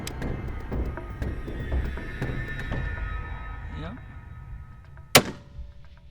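A hunting rifle fires once at an antelope in open Wyoming country, roughly 300 yards off: a single sharp, loud crack near the end, after low rumbling wind and handling noise and quiet talk.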